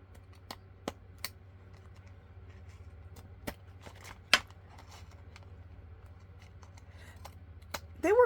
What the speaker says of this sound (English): These are my Tim Holtz scissors.